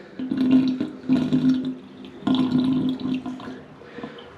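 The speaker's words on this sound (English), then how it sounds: "Anytime you see that swirl effect, it's draining pretty good." Bathtub drain with a trip-lever stopper, water gurgling and swirling down in bursts, with a steady low hum under broadband rushing that surges, pauses briefly and surges again before tapering off.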